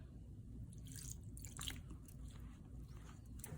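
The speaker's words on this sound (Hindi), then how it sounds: "एबे आमे अल्प अल्प करी पानी दबा आ गोटे नरम डो प्रस्तुत करबा।" Water added a little at a time to flour dough made with semolina and oil for gulgula, giving soft wet squishing and kneading sounds with small drips and crackles close by, low and continuous.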